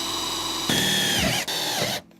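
A power drill whines steadily as it bores into the floor of a Sprinter van, its pitch surging once under load, dipping briefly, then cutting off abruptly, with no one talking.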